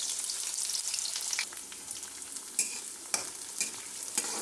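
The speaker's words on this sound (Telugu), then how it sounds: "ఇప్పుడు ఆనియన్స్ వేసుకుందాము. ఈ ఆనియన్స్ అన్నీ వేసేసుకుందాము." Chopped onions frying with cumin in hot oil give a loud, steady sizzle and crackle, broken by a few sharp spatula scrapes and clinks against the pan as the mixture is stirred.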